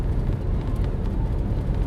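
Wind roaring past a truck's rearview mirror while driving during tornado warnings in Kansas, a steady loud low rumble and rush filling the cab without pause and without talk.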